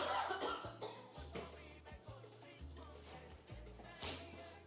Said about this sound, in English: All right, I'm gonna cough.